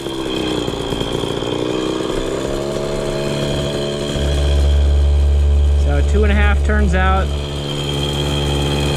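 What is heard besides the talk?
KTM 50 two-stroke dirt bike engine starting and idling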